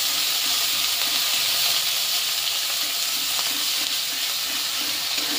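Black cumin and a ground spice paste fry in hot oil in a wok for a dried fish and pointed gourd mash, giving a steady, close, even sizzle and hiss that holds without a break, with no talk over it.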